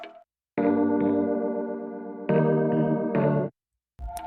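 A trap beat melody on an FL Keys piano with equalizer applied: sustained bright chords in two held phrases separated by a short gap, loud and close, with no voices.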